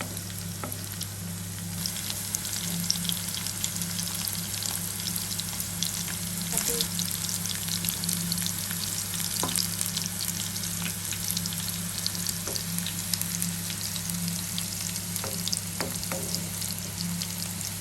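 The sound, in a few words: bitter gourd frying until crispy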